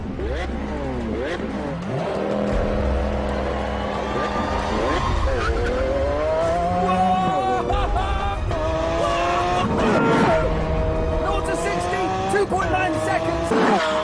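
A Lamborghini Aventador LP 700-4 accelerates hard. Its engine note climbs repeatedly in rising sweeps, breaking at each gear change, loud and sustained over a constant roar of wind and road noise.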